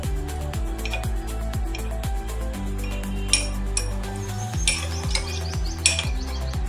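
Spoon stirring cornflour into water in a glass, light clinks and scraping taps against the rim, close, over a steady background sizzle of chicken cooking.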